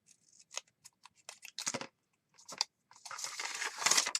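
Scissors trimming paper for a junk journal, a series of close, crisp snips and rustles in short bursts with pauses, ending in a longer run of cutting.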